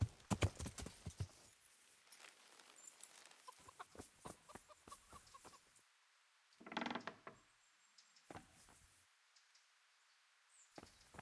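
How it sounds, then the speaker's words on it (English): Horse hooves clip-clop in the medieval game Kingdom Come: Deliverance, a run of irregular clops with a louder burst of movement midway and scattered softer knocks and clatter around them. "It's a big old horse."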